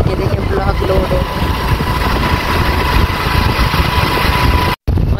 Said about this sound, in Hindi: ये देखिए स्प्रे कैसे हो रही है ट्रैक्टर की मदद से